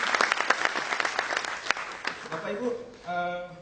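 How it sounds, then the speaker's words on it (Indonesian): Applause from an audience at the 2014 Otomotif Award automotive ceremony, dense clapping for a few seconds that thins out near the end as a voice starts to speak. "silakan tepuk tangan buat Pak Wagub"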